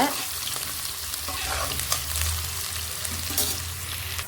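Onions and curry leaves sauté in a pan for an egg gravy, giving a steady close sizzle with soft stirring scrapes throughout.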